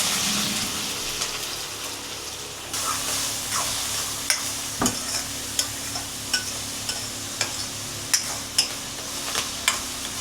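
Onions sizzling in hot oil with mustard seeds and cumin in a steel pan, a steady close frying hiss with scattered sharp pops and crackles throughout, no talk.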